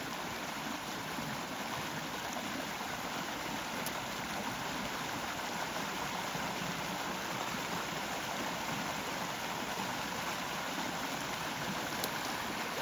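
Stream water rushing over small waterfalls during a metal detecting outing, a steady broadband rush that stays constant and fairly close with no talking.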